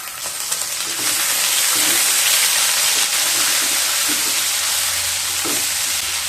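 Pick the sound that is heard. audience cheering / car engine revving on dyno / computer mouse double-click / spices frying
spices frying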